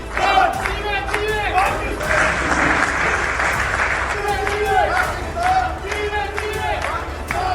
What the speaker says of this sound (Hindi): इसी क्लिप में पाकिस्तानी मूल के कुछ लोग आसिम मुनीर के लिए तालियां बजाते भी दिखे।